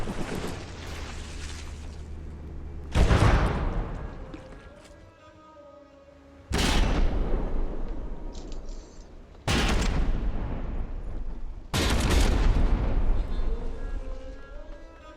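Heavy warship guns fire in a naval battle game, five big booming salvos spread across the span, each a sharp loud onset followed by a long rumbling decay over low ambient noise.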